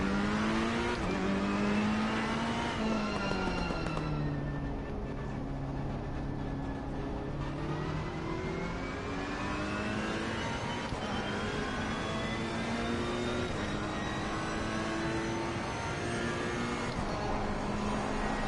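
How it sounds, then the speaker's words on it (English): Race car engine in Assetto Corsa Competizione on PS4 at Donington, revving continuously, its pitch climbing and falling through gear changes at moderate loudness with no voices. "Can you guys hear the car now? As I blow my motor?"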